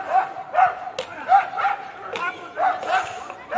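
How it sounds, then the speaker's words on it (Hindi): A dog barks and yips in short repeated bursts during a rowdy Holi celebration outdoors, mid-distance and fairly loud, with people's voices and shouting mixed in. "कुत्ता देख लो"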